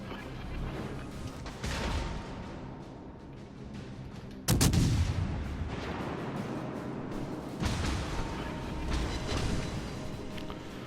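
Naval gunfire in the video game World of Warships: Legends from a cruiser fighting battleships, with heavy booming salvos, one sharp loud blast mid-clip and further rumbling shots over a continuous battle din.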